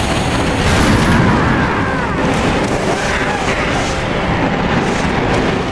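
Loud, continuous explosions and rumbling booms as cannon-armed ships are destroyed in the video game Spyro: A New Beginning, filling the whole stretch with dense blasting noise.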